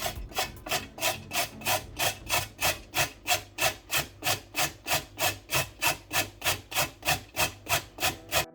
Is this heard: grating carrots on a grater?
yes